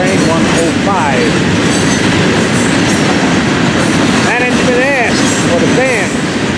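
A train of new gray rail cars passes loudly and close on the Florida East Coast line, with rumbling wheels, clattering joints and wavering squeals, while voices talk underneath.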